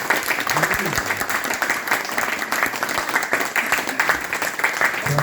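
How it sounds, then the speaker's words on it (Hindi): A crowd at a meeting in Gorakhpur claps loudly and rapidly for several seconds, dense and continuous, with a voice talking over it. "मांगो थोड़ा ताली ऐसा बजाइए ना।"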